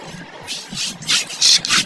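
Spice paste stirred and scraped in a pan in bursts of rubbing, scratchy strokes, close and fairly loud, growing more frequent toward the end, with no voices.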